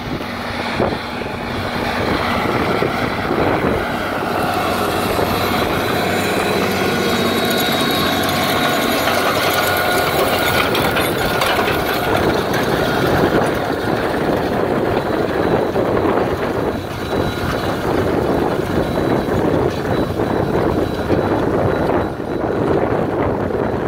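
Ford New Holland 8770 tractor pulling a no-till planter into cover crops, a loud steady engine drone with rattling mechanical clatter and some wind buffeting throughout.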